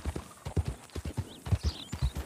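Hoofbeats of a horse in Red Dead roleplay clip-clop in a steady, close rhythm, with a brief whinny-like chirp partway through and no talking.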